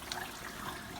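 Water circulating through a car sill full of chelating derust solution, pushed by a small electric plastic pump, a faint continuous trickling wash with no talk.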